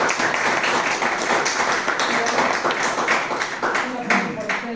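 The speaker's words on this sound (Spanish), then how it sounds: "Un aplauso, por favor, para Robert." Audience claps for Robert Brockmann after his talk at a freedom-of-expression event on liberty and democracy, a crowd's clapping blended with a voice speaking over it throughout.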